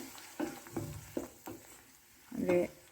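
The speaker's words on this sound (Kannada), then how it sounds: "ಒಮ್ಮೆ ಈ ಮಸಾಲವನ್ನು ಚೆನ್ನಾಗಿ ಬಾಡಿಸ್ಕೋಬೇಕು ಎಣ್ಣೆಯಲ್ಲೇ" Ground masala stirred and frying in hot oil for a festival rice dish, with a few scraping stir strokes and a soft sizzle, close and fairly quiet, no talking.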